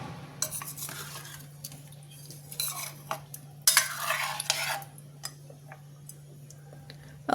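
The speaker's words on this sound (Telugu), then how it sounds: "ఒకసారి అంతా బాగా కలుపుకుందామండి." A utensil stirs fried paneer and fried cashews into a masala curry in a pan, giving irregular scraping and clinking strokes with one louder burst of scraping midway, close up and fairly quiet, with no talk.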